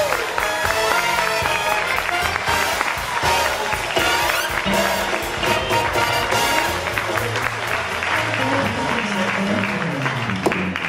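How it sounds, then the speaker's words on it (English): Studio audience applause for a talk show guest, steady and full throughout with music playing over it, dense clapping sustained for the whole stretch. "Let's give him a big round of applause."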